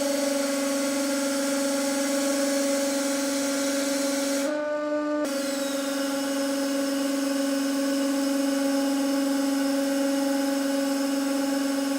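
A hydraulic press forces an oversized shaft into a rusty steel tube, giving a loud, constant whining hum that cuts out briefly partway through and then resumes steadily.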